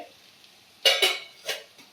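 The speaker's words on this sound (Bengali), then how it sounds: "আলু দিয়ে একটু হালকা করে আলু দিয়ে নেড়ে নিলাম" Fried potatoes are stirred into chicken in a pan: three or four quick scraping, sizzling strokes close by, short and fairly soft, with no talking.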